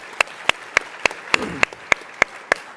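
Clapping at a startup pitch competition follows an electrified thermal energy pitch: sharp, evenly spaced claps land in a steady rhythm, about three per second, fairly close and crisp, with no talk over them.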